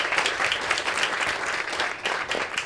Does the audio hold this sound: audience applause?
yes